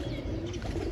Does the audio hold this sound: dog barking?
no